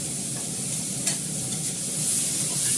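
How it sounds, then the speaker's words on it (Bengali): Fish and onion fry in a hot pan, a steady, close sizzle and crackle with one sharp tick partway through, no voices. "এখন পেঁয়াজটা দিয়ে দিলাম, কথা বলতে বলতে আমার মাছটা ভাজা হয়ে গেল"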